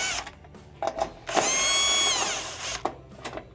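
A power drill or screwdriver whirs in bursts, rising to a sustained spin, while Phillips screws are backed out of a Whirlpool stove's control console, with small clicks and handling noises between runs.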